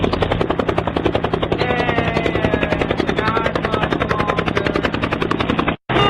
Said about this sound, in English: I'm gonna fly in on the helicopter at 11 p.m.